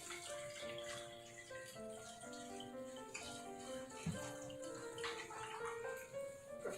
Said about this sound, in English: Let's just add the water and get it over with.